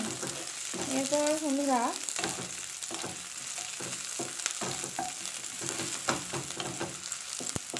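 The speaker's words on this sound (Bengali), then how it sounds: "খুব বেশি ফ্রাই করবো না এটা আমরা, এটা হালকা ফ্রাই হবে" Palak paneer ingredients frying lightly in a pan for a dhaba-style dish, a steady sizzle with stirring scrapes and clinks throughout, while someone speaks briefly near the start.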